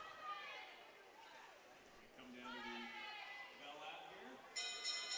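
A bell rings out for the final lap of a speed skating race at a nationals meet, clanging briefly near the end over an announcer's commentary and crowd chatter in an indoor rink.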